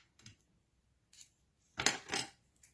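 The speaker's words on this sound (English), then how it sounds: "I'm going to cut that." Scissors snipping thread on a Magnolia Design Co tassel maker, a light click followed by a couple of close, crisp cuts with quiet pauses between, no talk.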